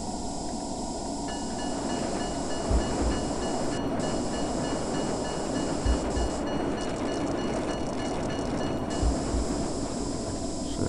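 A train rolling along in the video game Marc Ecko's Getting Up, a steady loud rumble with hiss and rhythmic clatter, low thumps recurring every few seconds, continuous and unbroken.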